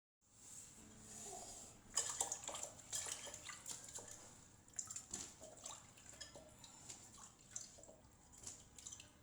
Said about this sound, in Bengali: এই তো এখন ধোয়া হয়ে গেল কাঁচামরিচ, পেঁয়াজ।